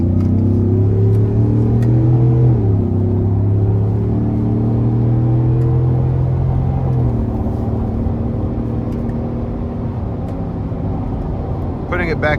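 A 2020 Ford F-150 XLT with the 5.0 V8, an SCA Performance Black Widow build, accelerates onto an interstate in sport mode with manual shifts. The loud, close engine drone climbs in pitch and drops back at each gear change.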